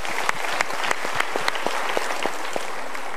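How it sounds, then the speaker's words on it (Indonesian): Lively applause from a seminar audience at a motivational talk show, with dense clapping and a few sharp, distinct nearby claps standing out at an irregular beat. "Kalau gitu kita berikan tepuk tangan dulu untuk mereka."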